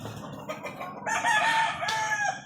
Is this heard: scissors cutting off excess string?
no